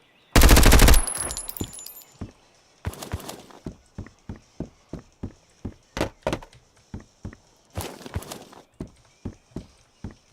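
Gunfire in the video game Road to Vostok opens with a loud, dense burst, then continues as a long series of separate sharp cracks at a fairly even pace, with a few clustered volleys.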